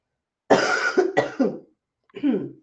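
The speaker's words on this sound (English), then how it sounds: "Still ended up coughing anyway" A close, harsh burst of coughing: a run of three quick coughs, a short pause, then one more.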